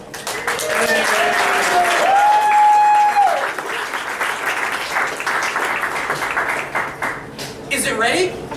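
A theater audience applauds after a short sci-fi play, a steady loud wash of clapping with cheering voices and a whoop rising over it, tapering slightly toward the end.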